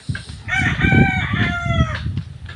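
A mother hen with her chicks gives a loud, close, drawn-out call of about one and a half seconds, breaking into a few stepped tones.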